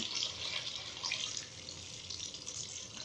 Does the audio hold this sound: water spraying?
yes